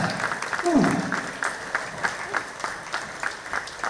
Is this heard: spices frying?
no